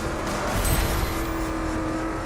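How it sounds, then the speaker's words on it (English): Computer-controlled cars in the racing game The Crew drive hard and slide through corners, a loud continuous engine roar with tire scrubbing and a skidding burst in the middle, filling the whole stretch without talk. "These enemy cars aren't very good at going around corners."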